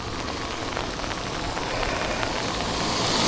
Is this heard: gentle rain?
yes